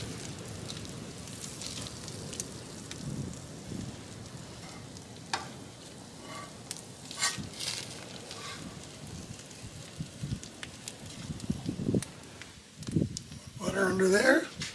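Butter sizzles softly on a hot griddle beside halibut fillets, a faint steady crackle broken by scraping and tapping noises and louder spatter near the end, with a person talking intermittently over it.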